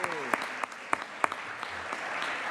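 Members in a state senate chamber applaud during a floor session, scattered claps with a few sharp louder hits at moderate distance.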